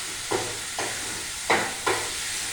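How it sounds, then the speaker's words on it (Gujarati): Tomatoes cook down to a pulp in a pan for restaurant-style dal fry under a constant hiss of sizzling. A spoon stirs four times, scraping the pan at a steady rhythm, close up, with no talk. "અને ટમાટર પલ્પી થાય ને ત્યાં સુધી આપણે એને ચડાવવાના."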